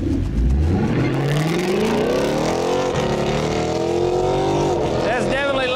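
Engine of a turbocharged Mustang police interceptor after a 5-speed swap revs loudly and gravelly, its pitch climbing and falling in sustained close-up pulls over a constant rumble.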